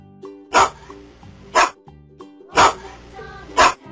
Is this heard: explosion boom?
no